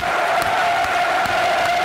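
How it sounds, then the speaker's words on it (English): A football stadium crowd at Millwall against Blackburn Rovers claps steadily for COVID victims, a broad continuous wash of distant applause with no break across the short stretch. "Applause for the COVID victims, both sets of players and fans."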